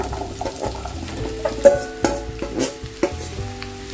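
Pumpkin pieces stirred into frying onions and curry leaves in a pan, with irregular scraping knocks over a low sizzle, close by.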